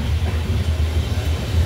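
A passenger train, the East Coast Express, rumbling steadily on the rails as it pulls into Warangal, a loud continuous low roar with rhythmic wheel rattle and no pauses.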